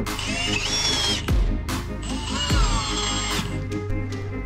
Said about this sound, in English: Next, we'll load Craig screws into the pocket holes and drive them in.